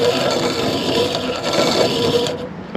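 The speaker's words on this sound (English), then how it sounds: "it starts to grind that ring away on the ends" A hand-cranked piston ring filer grinds the end gap of a piston ring for a Miata 1.8 engine build, a steady close rasping scrape that runs continuously through the clip before cutting off near the end.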